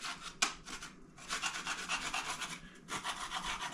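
Repeated rough scraping strokes rasp as built-up paint is scraped off a wall, close up and fairly loud, in a steady back-and-forth rhythm with brief pauses.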